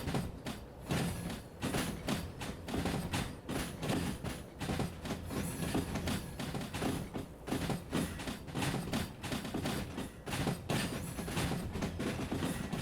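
A long freight train in the Derail Valley game coasting at low speed, giving a continuous rolling rumble with steady clickety-clack and rattling of the cars.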